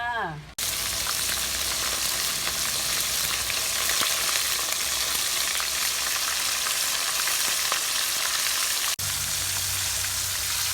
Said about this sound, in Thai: เรามาทอดกันเลยค่ะ